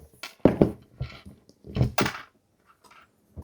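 A few short, sharp clicks and thunks in quick succession, close up and fairly quiet, from a NXTPaper tablet's kickstand snapping through detent positions.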